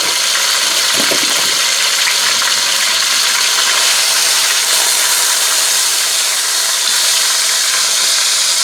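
Meat searing in a 1974 Presto pressure cooker, a steady broadband sizzling hiss that holds at a constant level throughout, with a brief low thump near the start.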